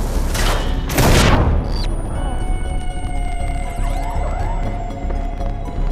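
Grenades explode in Far Cry 3: Blood Dragon, sending two heavy booming blasts through the first couple of seconds. A long rumbling tail follows, with electronic whines and sweeping tones over it.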